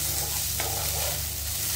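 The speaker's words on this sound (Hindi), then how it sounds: "अब इसी समय मैं डाल दूंगी एक चम्मच अदरक लहसुन का पेस्ट और इन्हें भी साथ में ही भून लेंगे" Ginger garlic paste frying with spinach and potatoes in a pan in very little oil, a steady close sizzle with stirring scrapes and no voices.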